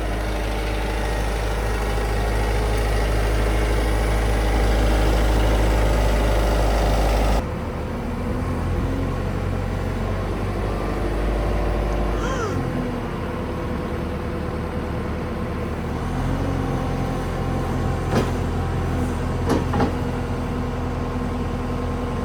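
A vehicle engine rumbles loudly while pulling a pizza container, a heavy steady drone that drops in level partway through and keeps running, with some faint clatter and movement over it.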